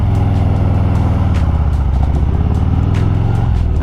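A Harley motorcycle riding along a mountain backroad gives a loud, steady engine drone with wind rush, close and continuous, with no talk.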